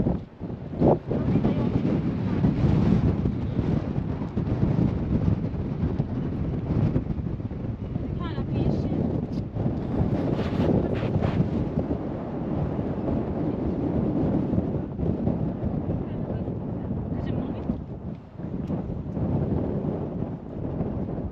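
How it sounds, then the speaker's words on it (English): Strong wind on a mountain top above Mostar, Bosnia, buffets the microphone in continuous heavy gusts, a loud low roar rising and falling throughout. "Very windy up here, as you can imagine, on top of the mountain."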